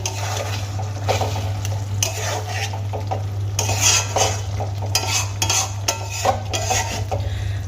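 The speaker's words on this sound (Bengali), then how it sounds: "এবার হালকা করে আমি একবার নাড়িয়ে নেব" Tilapia fish head curry is stirred in a pan on a gas stove, with loud clattering scrapes and knocks of a utensil against metal over a low sizzle and a steady hum.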